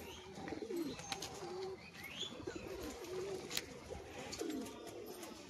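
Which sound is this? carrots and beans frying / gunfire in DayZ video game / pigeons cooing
pigeons cooing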